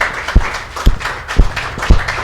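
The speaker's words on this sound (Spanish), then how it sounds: "Denle un fuerte aplauso al Rey de Reyes" A church congregation claps in a steady rhythm, with heavy beats landing about every half second, close and loud, with no voices over it.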